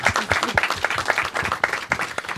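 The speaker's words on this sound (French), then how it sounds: "On va vraiment l'applaudir très fort." Lively applause from a crowd, steady clapping throughout with no pauses.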